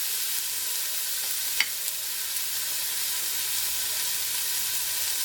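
Onion browns in a pan with a steady, even sizzle close by, broken by a single faint clink early on; no one speaks.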